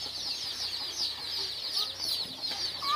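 Sonali chicken chicks in a brooder give rapid, high-pitched peeping cheeps, many overlapping calls in a busy, continuous chorus at moderate distance.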